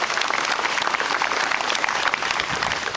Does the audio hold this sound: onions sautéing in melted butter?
no